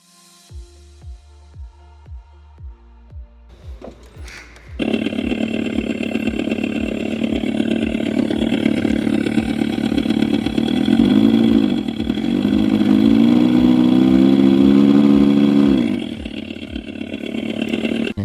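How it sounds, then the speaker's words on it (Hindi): A simulated motorcycle exhaust note plays loud and steady from the speaker of an Ola S1 Pro electric scooter, starting with slow rhythmic idle pulses, then a sustained rumble that rises and dips in pitch. "ये एक्चुअली एक साउंड स्टिमुलेशन है जो कि स्पीकर के थ्रू आपको एक एग्जॉस्ट नोट का साउंड देता है।"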